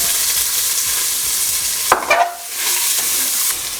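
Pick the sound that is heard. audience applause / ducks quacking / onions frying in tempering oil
onions frying in tempering oil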